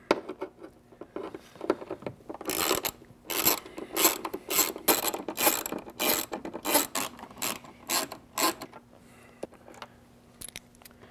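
A hand ratchet clicks in quick rhythmic bursts while backing out factory bolts on a four-door Ford Bronco top, the rasping pawl strokes close and fairly quiet, pausing briefly between sets.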